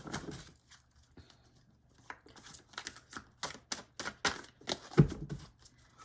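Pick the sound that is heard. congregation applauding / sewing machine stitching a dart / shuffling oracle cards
shuffling oracle cards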